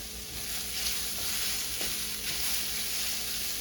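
Garlic sizzles in a hot pan as the base for a mushroom and wild rice risotto, a bright continuous crackling hiss close by with a few soft stirring scrapes and no talk.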